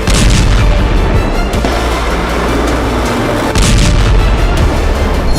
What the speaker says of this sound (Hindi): ज़ेलेंस्की ने कुर्स्क के रण में अमेरिकी अटैकम्स मिसाइलों से हमले किए।